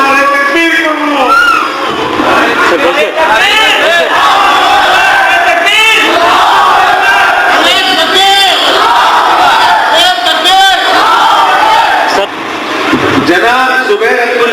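A large crowd roars the Nara-e-Takbeer slogan in loud, repeated surges of massed voices at a Quran competition prize ceremony, the shouting continuous and close throughout.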